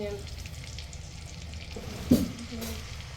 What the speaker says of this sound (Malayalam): അപ്പോൾ നമ്മൾ ചിക്കൻ പീസുകളൊക്കെ വറുത്ത് വറുത്ത് മാറ്റാൻ പോവാണേ